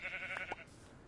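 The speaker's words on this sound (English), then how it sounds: "And there's a sheep." A sheep bleating in the Minecraft video game, one short wavering bleat at moderate volume over a faint background, ending in quiet.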